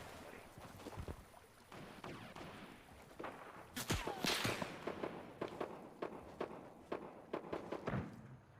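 Gunshots in the video game Fortnite, sharp cracks and popping bursts, some single and some clustered, over game ambience, moderately loud.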